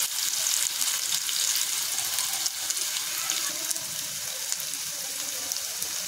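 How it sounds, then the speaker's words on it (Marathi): Garlic and onion frying in hot oil, a steady dense sizzle that holds even and fairly quiet throughout with no pauses and no voice over it. "तेल तापलेलं आहे, त्याच्यामध्ये मी लसूण टाकून घेते, कांदा, हे छान सोनेरी रंग येईपर्यंत परतून घेते"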